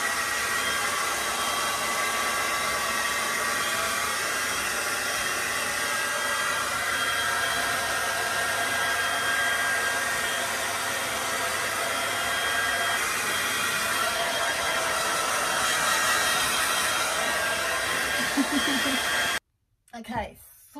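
A hair dryer blows loudly and steadily as it dries hair, a continuous rushing whir that lasts about nineteen seconds before cutting off abruptly. A voice is heard briefly afterward.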